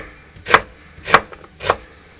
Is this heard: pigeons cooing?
no